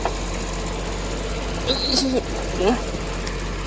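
A used Nissan B11 car engine idles with a steady low rumble, while a few brief higher chirping sounds rise above it midway.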